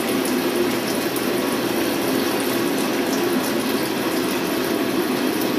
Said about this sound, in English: We'll put the water on.